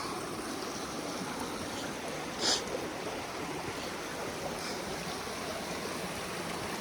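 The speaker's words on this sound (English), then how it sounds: "This is a fun little water crossing." Small stream rushing over rocks at a footbridge water crossing on the Appalachian Trail, a steady broadband wash of water running continuously and close by, with no talking.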